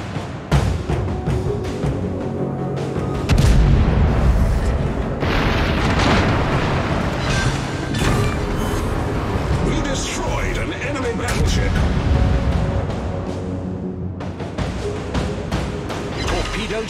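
Naval gun artillery booms repeatedly in a warship video game, heavy blasts and rumbling bursts layered over game sounds, with voices speaking throughout.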